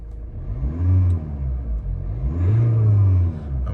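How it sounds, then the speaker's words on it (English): A 2013 Kia Sportage 2.0 CRD KX-3 4x4 diesel engine revved twice while parked, each rev a loud rising rumble that climbs and falls back to a steady idle, close by with no talking. "let's give it a rev and let's just see how she sounds when we rev her"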